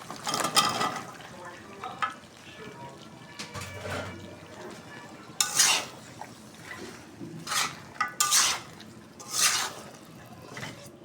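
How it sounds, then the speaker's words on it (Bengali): Spiced mixed vegetables, including cauliflower, are sautéed in a pan for vegetable khichuri, with intermittent spatula scrapes and sharp metallic clinks over a quiet background. "এখন কষাই নেব সবজিগুলো ভালোভাবে।"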